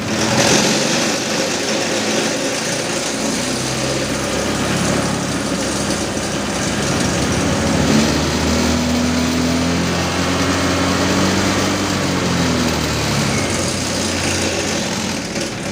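Honda motorcycle engine idling with uneven, unsteady RPM, a loud continuous running drone that wavers slightly in pitch throughout, with no talk over it.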